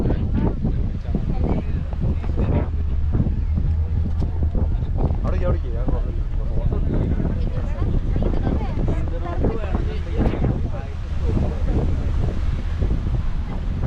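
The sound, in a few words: boat cruising at sea with wind noise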